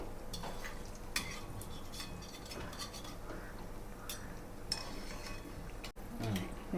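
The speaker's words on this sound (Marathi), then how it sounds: "आता हे तेलात फडफडणारे पॅटीस आपण पलटून घेऊयात" Patties fry in oil in a pan, a low continuous sizzle beneath scattered clinks and scrapes of a spatula as they are turned over, close and fairly quiet, with no talking.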